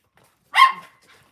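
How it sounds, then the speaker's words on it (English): A single sharp bark from a dog named Grace outdoors near a creek, loud and close, set against near silence. "Grace, no barking, no barking"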